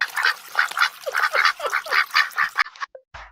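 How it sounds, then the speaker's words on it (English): Several ducks quack loudly and close by in a quick, uneven series while being fed, with a few brief, softer calls trailing off near the end. "We're feeding ducks."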